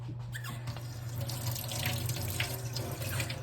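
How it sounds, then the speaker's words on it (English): Tap water runs steadily into small fermentation-lid cups while making kimchi indoors, a close, continuous splashing stream with no talking. "So you fill these little cups halfway with water."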